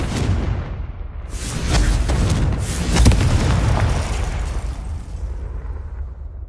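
Confringo fire spell blast in the Hogwarts Legacy video game: a loud, close, booming explosion with a crackling burst that swells and then rolls away into a long fading rumble.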